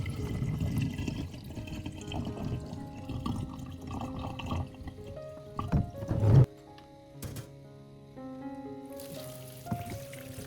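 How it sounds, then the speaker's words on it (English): Soaked dried chilies are rinsed under running tap water, with a broad splashing wash for about six seconds. The water then fades and drips trail off under a tonal background. "After soaking, rinse them thoroughly under running water, making sure each chili is nice and clean"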